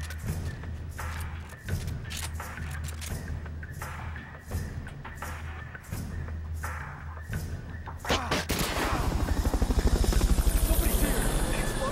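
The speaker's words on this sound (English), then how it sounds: "Fulton recovery helicopter is complete." Metal Gear Peace Walker's Fulton recovery helicopter chops in with rising rotor thumps and engine drone, swelling loud and close over game sound effects and brief voices.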